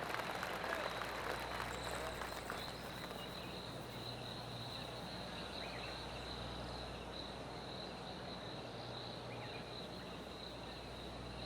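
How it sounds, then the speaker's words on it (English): Polite golf clap from a tournament gallery in the PGA Tour 2K25 video game, at the John Deere Classic: a steady wash of scattered applause that swells briefly at the start and then settles into a level, continuous patter under ambient noise. "Oh, golf clap."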